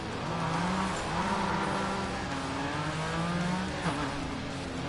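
A rallycross car in the Gravel racing video game drives with a steady droning engine whose pitch rises and dips through gear changes, with no talk over it.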